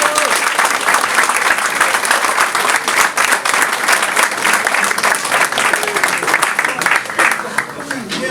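A large audience claps loudly and continuously at a 2026 political campaign launch, a dense, steady wall of applause filling the whole stretch with faint crowd murmur beneath.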